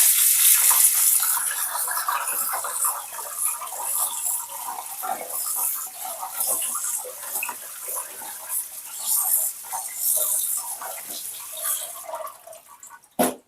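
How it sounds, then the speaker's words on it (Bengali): Cut taro pieces are washed in water, with continuous splashing, sloshing and dripping close by that stays fairly even before stopping abruptly at the end. "এরপর এই কেটে রাখা কচুগুলোকে ভালো করে ধুয়ে নেব।"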